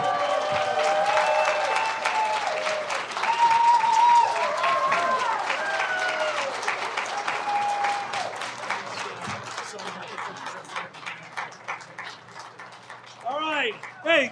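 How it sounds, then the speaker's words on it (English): An audience at an April Fools debate on eagle versus turkey applauds for several seconds after a speech, the dense clapping thinning out as a voice begins speaking over it, with whoops and brief crowd noise near the end. "Another round of applause for right here."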